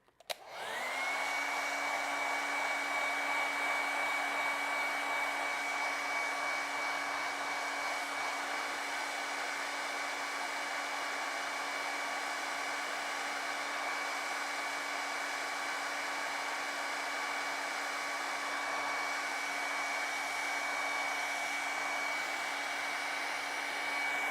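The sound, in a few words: hair dryer blowing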